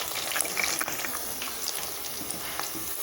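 Pieces of mushroom Manchurian deep-frying in hot oil, a close, steady bubbling sizzle with scattered small pops and crackles, continuous and unaccompanied by voices.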